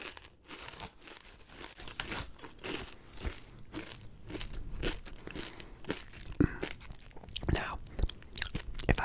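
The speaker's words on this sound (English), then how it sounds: "Nice crisp chips. Doritos, man, they never fault." Crunchy Doritos chips being bitten and chewed close up, with a steady run of sharp crisp crunches and crinkles across the whole stretch and brief murmured speech between bites.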